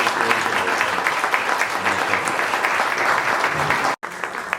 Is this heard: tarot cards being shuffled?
no